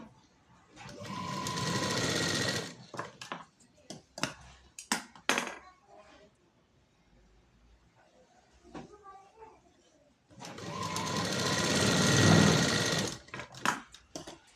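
Sewing machine stitching a front dart in a tailoring setting, two loud sustained runs of rapid mechanical whirring separated by handling clicks, rustling fabric and brief pauses.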